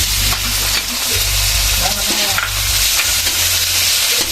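Meat sizzles loudly in hot oil with garlic for pancit canton, a spatula stirring and scraping the pan in quick repeated strokes over a constant close-up frying hiss.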